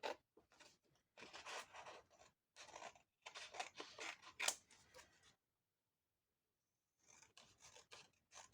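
Scissors cut through paper for a junk journal in a run of short rasping snips, pausing briefly before a few more cuts; close and fairly quiet.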